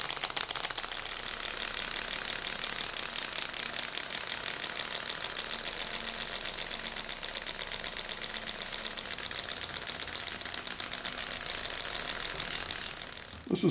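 A Gatling-style six-cylinder Stirling engine turns slowly, giving a steady mechanical clicking and ticking that continues evenly throughout with no voices.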